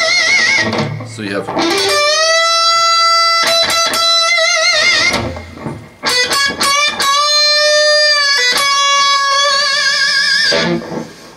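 An electric guitar bends notes upward and holds them with a wavering vibrato, played loud and sustained with short gaps between phrases.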